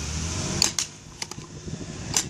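An experimental telescoping plungertube blaster fires in a few quick, sharp pneumatic pops and clicks, close and fairly faint, with weak velocity and a hissing vacuum-like push between shots.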